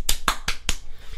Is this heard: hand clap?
yes